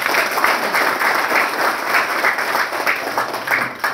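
An audience at a police community meeting applauds, a steady burst of many hands clapping together at moderate loudness with no voices over it.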